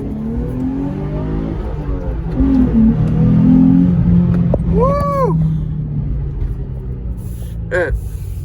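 A Nissan 350Z engine hums and rumbles steadily while driving, swelling into a louder rev midway before easing back, with high whistling tones cutting through near the end.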